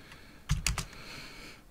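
A short burst of three or four computer keyboard keystrokes while entering an SSH key command, crisp close clacks in quick succession, then quiet room noise.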